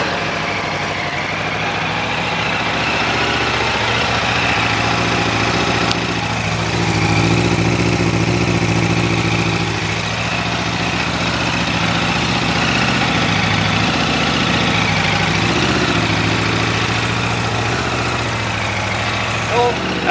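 Aprilia RSV4 Factory 1100 motorcycle with the stock Euro 5 exhaust runs steadily for about twenty seconds, a loud, close engine drone with a few brief revs and low voices audible beneath it.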